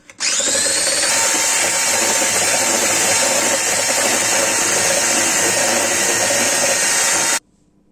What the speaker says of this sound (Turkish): Üzerine 1 su bardağı şeker ilave ediyoruz ve köpük köpük olana kadar çırpıyoruz.